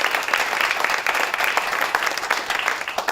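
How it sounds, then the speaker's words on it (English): A crowd at a city groundbreaking ceremony claps for the city county council, a dense, steady round of applause lasting a few seconds at even loudness. "let's give the city county council another round of applause."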